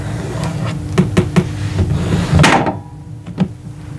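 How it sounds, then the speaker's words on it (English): A ring light knocked over by accident during a cosmetics unboxing gives a sudden loud clatter and thump, after a few softer taps and knocks close to the microphone, then quiet. "I just knocked my ring light."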